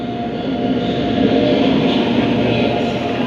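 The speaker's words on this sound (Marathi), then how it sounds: "ही आपली भारतीय ट्रेन आहे आणि आता ही प्लॅटफॉर्म नंबर 7ला आलेली आहे." An Indian Railways train pulling into platform 7 at a station, a loud steady rumble and rolling clatter of wheels and carriages close by.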